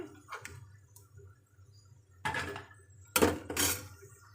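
Fried maida flour cakes are lifted out of a pan onto a plate, with a few separate metallic clinks and scrapes of utensil on dish, the loudest coming in two close bursts near the end.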